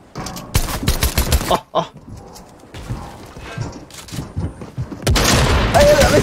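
Gunfire bursts from a Fortnite match, loud sharp volleys at the start and again near the end, with a quieter stretch in between and a voice exclaiming briefly.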